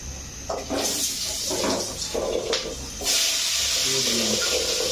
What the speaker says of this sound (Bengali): এবার আমার পরের স্টেপ ভাজা হলে আলু কাটা দিয়ে দেবো